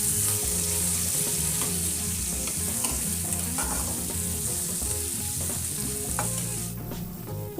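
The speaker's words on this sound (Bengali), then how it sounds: "মাছ ভাজার ওই তেলের মধ্যেই এবার মিহি করে কুচিয়ে রাখা পেঁয়াজ কুচিগুলো আমি দিয়ে দিলাম। পেঁয়াজটাও যথারীতি খুব সুন্দর করে ভেজে নেব লাল লাল করে।" Finely chopped onions fry loudly in oil left over from frying katla fish, a steady, dense sizzle with occasional stirring that carries on without any voices.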